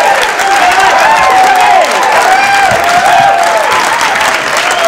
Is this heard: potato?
no